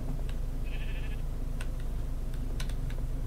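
A single short sheep bleat from a survival video game sounds over steady background hum, accompanied by scattered keyboard clicks.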